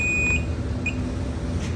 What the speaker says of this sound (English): once the pump is dry and you hear a beep